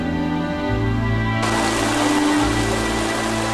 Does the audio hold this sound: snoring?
no